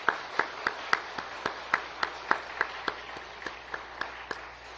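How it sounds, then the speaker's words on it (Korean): A church congregation claps during a Sunday afternoon service, a faint, evenly paced beat of single sharp claps repeating about every third of a second for several seconds. "우리 격려의 박수 한번 부탁드리겠습니다."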